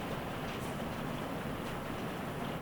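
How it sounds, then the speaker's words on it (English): Heavy rain pouring down outside, a dense, steady wash of noise that stays constant and fairly loud throughout, with no voices. "it's raining right now. It's raining pretty hard."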